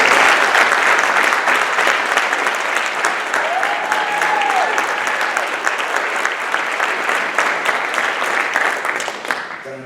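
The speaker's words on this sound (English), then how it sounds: "please stand up for a round of applause" An audience at a board of education meeting claps in sustained, dense applause for nearly ten seconds, then fades out at the end.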